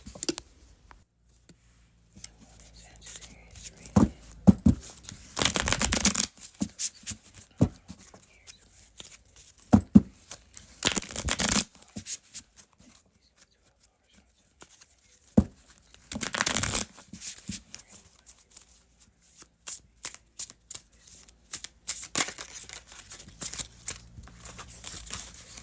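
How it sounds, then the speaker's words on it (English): A new deck of tarot cards is shuffled in repeated bursts of riffling and slapping, close and crisp, separated by quiet pauses. "these cards just want to fly out. This is a new deck."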